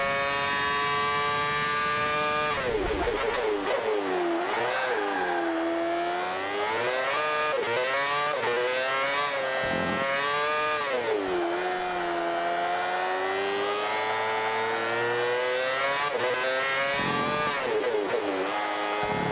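A virtual car engine in the Forza racing game revs and wails continuously through corners, its pitch rising and dipping as the throttle is worked, loud and steady with no talking.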